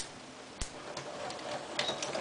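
A sewing machine stitching a back tack at the end of a seam on a neckline facing, running in short mechanical bursts with a sharp knock near the start, close and moderately loud.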